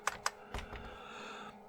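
Keys are pressed on a retro PC keyboard during repair testing. A few sharp, separate clicks come close together at first and then trail off, quiet and near, with no talk.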